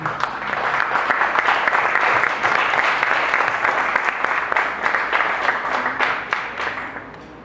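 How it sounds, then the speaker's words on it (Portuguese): A church congregation applauds its pastor at a Bible study evening, a full, even burst of clapping that holds steady before trailing off. "Você pode aplaudir pela vida dele."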